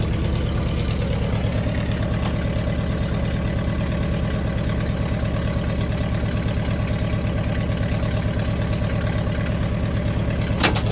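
A car engine idling steadily after a new tachometer install and exhaust wrap, with a dense low rumble throughout and a faint click near the end.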